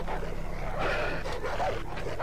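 Dogs barking in Far Cry 3, a few sharp barks and yips at mid distance over a constant low background hum.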